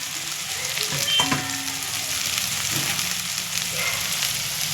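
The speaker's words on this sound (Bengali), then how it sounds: "তো বাঁধাকপিটা আমি দিয়ে দিলাম" Shredded cabbage sizzles and fries steadily in a hot pan, a dense, close, continuous crackle with a faint stir or clink early on.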